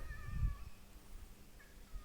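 A cat meows a few times nearby, short calls with a louder one early and a fainter one near the end, against quiet rural background.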